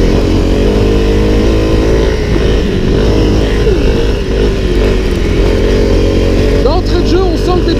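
Honda CRF 250 L motorcycle ridden off-road on dirt trails, its engine droning loud and close with shifting revs, while a rider talks over it.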